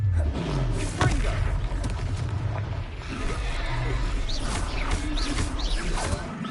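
A Confringo fire spell is cast during combat in Hogwarts Legacy on PS5, giving heavy thumping blasts and fiery bursts over a constant rumble of battle effects, with a voice briefly heard amid the noise.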